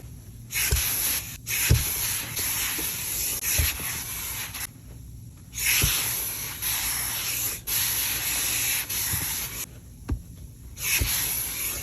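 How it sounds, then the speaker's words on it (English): A steam iron presses a sleeveless dress after alterations, giving loud sustained hissing bursts of several seconds each, broken by short pauses and faint soft knocks as the iron is set down. "Ironing the dress with steam after alterations."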